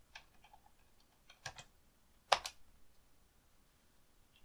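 Sparse keyboard typing at a computer while entering a duration into video-editing software, a few faint scattered clicks with one sharper cluster of keystrokes in quiet surroundings.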